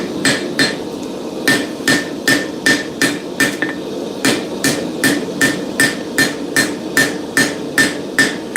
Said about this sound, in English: I pulled that hammer blow. That was a bad blow.